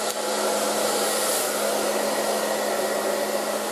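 An ETI Professional Turbodryer 2000 hairdryer runs on high heat and low speed, giving a loud, steady, close airy whoosh with a faint motor whine that holds constant throughout, with no talking.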